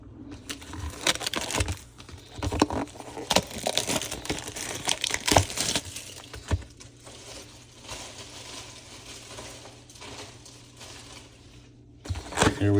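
Crinkling, tearing wrappers of WWE Topps Chrome hobby trading card boxes being ripped open, a dense run of close, loud crackles and rips that eases midway and picks up again at the end.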